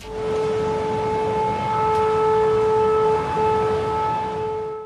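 An air raid siren wails steadily for several seconds, a loud sustained tone with a faint hum beneath, no voices.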